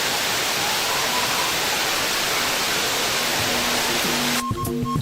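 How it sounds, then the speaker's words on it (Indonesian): The Buyut Ijah waterfall in Banyuwangi, a spring-fed fall beside the Jagir waterfall, roars as a loud, dense, unbroken rush of water close by, with a faint low tone entering near the end. "merupakan air terjun Buyut Ijah yang berada tepat di sebelah dari air terjun Jagir"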